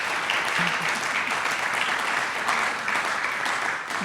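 Sustained audience applause at an anniversary celebration honoring a longtime organization founder, a dense steady wash of clapping from a large crowd, loud and continuous throughout with no break.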